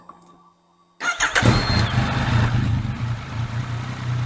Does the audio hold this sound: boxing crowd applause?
no